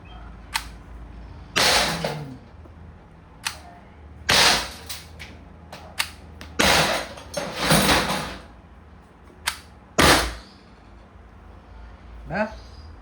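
Several sharp shots from an Umarex HDR68 .68-caliber airgun crack at uneven intervals, some followed by a metallic clang from a thick metal can, with clicks and handling noises between them.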